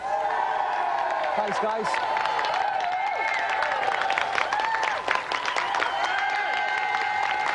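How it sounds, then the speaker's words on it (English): Applause and cheering from a TV game show studio audience, with whoops and a synthesized musical tone over it; a voice speaks briefly through the clapping. "Let's have another round of applause then"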